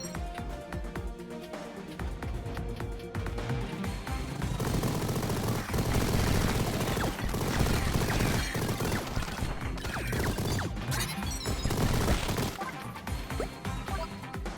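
Machine gun fire in Mighty Goose, a dense and continuous loud barrage of rapid shots and crashing impacts mixed with game music, sustained from start to finish.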